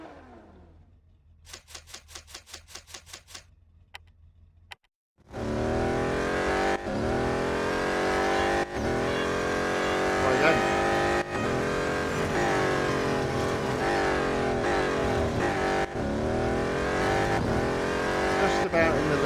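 Race cars roar around a track in the mobile racing game Real Racing 3, loud engines revving and shifting through gears continuously after a short stretch of menu beeps.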